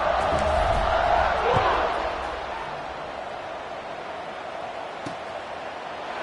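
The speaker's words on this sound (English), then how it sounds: "this crowd is buzzing after that last score" A football stadium crowd buzzes after a score, a loud roar of many voices that rises, then settles into a steady murmur that carries on to the end.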